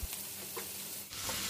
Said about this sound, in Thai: ใส่กุ้งลงไป ผัดให้กุ้งสุกจ้ะ